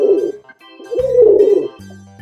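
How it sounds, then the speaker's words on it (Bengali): A pigeon coos up close in soft, throaty phrases, a rolling call followed by a pause and then a longer, swelling coo, with no other sounds around it. "এটা হলো পায়রা। পায়রাকে ইংরেজিতে বলে পিজিয়ন।"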